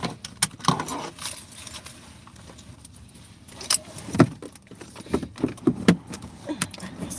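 Car keys jangle inside a vehicle parked at a gas station, with a series of close metallic clinks and rattles, some louder, over faint interior background noise.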